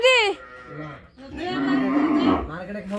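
A cow on a village farm lets out a long, loud moo that swells through the middle, with a brief voice at the start and more calls around it.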